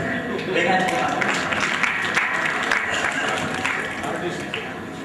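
Audience applause at a 2005 coordination group conference in a hotel hall, a dense steady wash of clapping from a large crowd lasting throughout, fairly loud and even, with some murmuring underneath.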